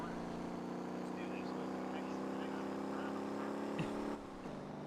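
Loud car engine in a racing video game, a continuous buzzing drone that holds steady and then drops abruptly near the end as the game volume is lowered, with a voice talking faintly beneath it.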